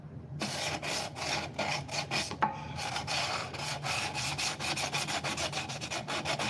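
A light housing is hand-sanded with sandpaper, giving quick, rhythmic back-and-forth rasping strokes that are close and steady throughout.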